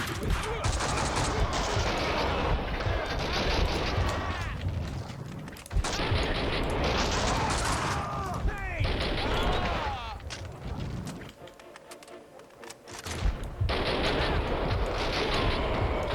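Shotgun blasts and gunfire in the action video game Max Payne 2 ring out loud and continuous, with layered booms and mechanical clatter running almost unbroken over the whole stretch.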